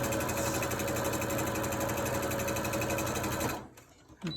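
A sewing machine runs steadily for about three and a half seconds, top stitching a wolf mask, with a fast even needle rhythm up close before stopping abruptly into quiet handling noise.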